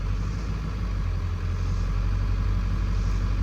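A 7.3 Powerstroke diesel truck that sat for five years runs steadily on its first drive, a constant low rumbling drone with no voices.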